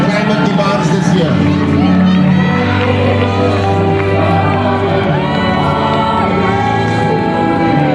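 A crowd at an outdoor Labour Day rally cheers and claps loudly and continuously, voices and whoops mixing into a dense roar while amplified talk carries over it.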